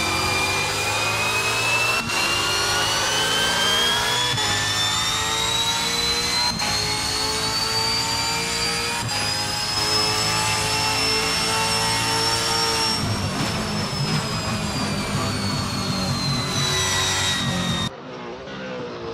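A V8 Supercar Ford Mustang S550 lapping Albert Park Circuit in Assetto Corsa, a loud, sustained high-revving engine roar with a slowly rising pitch and brief dips at gear changes, cutting off near the end.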